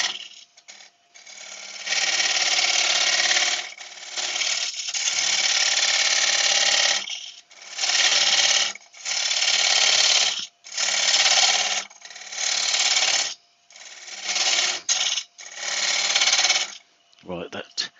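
Gouge cutting a yew bowl on a lathe makes repeated bursts of loud, rough scraping and shaving, each lasting a second or two, separated by brief pauses, with someone speaking in between.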